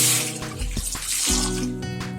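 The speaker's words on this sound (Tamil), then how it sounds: "இதில் தக்காளி நனைகிற அளவுக்கு தண்ணி விட்டுங்க." Water pours steadily into a pot of tomatoes nearby, splashing and gurgling at close range against a faint background hum.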